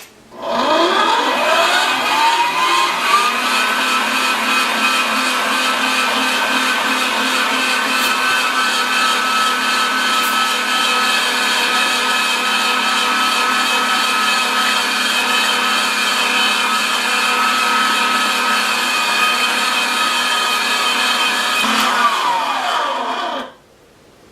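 An electric meat grinder spins up, runs loud and steady for about twenty seconds while grinding deer, pheasant and duck meat for summer sausage, then winds down and stops; no talking.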